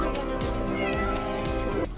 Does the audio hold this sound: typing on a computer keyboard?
no